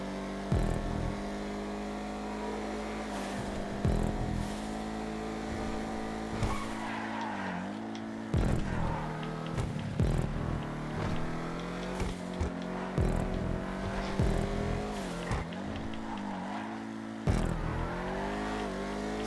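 Vigero ZXs muscle cars race in GTA 5, their engines droning and revving up and down while tires squeal and skid repeatedly through corners, loud and close with no talk.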